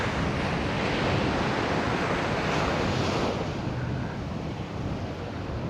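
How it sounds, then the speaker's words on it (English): Surf washes continuously onto a soft sandy beach on the east side of Costa Teguise, a steady, full roar of breaking waves with wind buffeting the microphone throughout and no voices. "Well, this is a nice beach. Sand is nice and soft."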